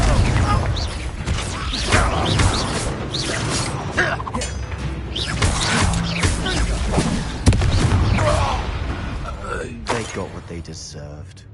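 Repeated Confringo spell explosions in the video game Hogwarts Legacy crash and boom through a chaotic battle, dense bursts and impacts layered with voices talking over the fight.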